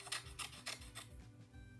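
Scissors snipping through paper, three or four crisp rasping cuts in quick succession, close and fairly quiet, with no voices.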